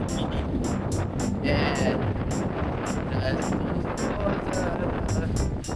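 Strong wind buffets an outdoor barbecue, a steady roaring rush with gusty swells and crackly bursts, loud and close throughout, with a brief spoken word over it.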